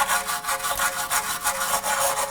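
A wire brush scrubs rapidly back and forth over rear brake parts on a 2016-2020 Kia Sorento, clearing the pad contact surfaces. The strokes are loud, close and continuous, with no voices.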